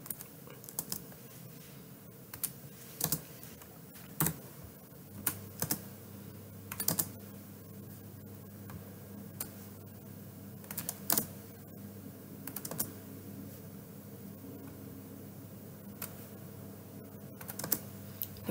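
A computer keyboard is typed on in short irregular bursts with clicky keystrokes and pauses between them, fairly quiet and close, with no talking.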